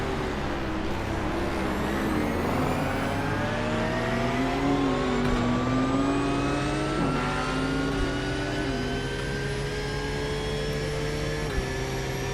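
A GT3 race car engine in iRacing screams continuously at high revs, its pitch climbing and dropping with gear shifts, loud and close throughout.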